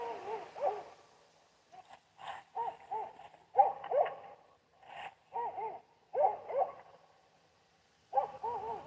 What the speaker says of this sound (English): Listen to those dogs.